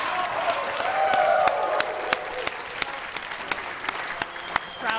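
Spectators applaud after a long rally at a squash semifinal at the Bow Valley Athletic Club during the Canadian Open, with steady, loud clapping running throughout and sharp individual claps standing out in the crowd noise.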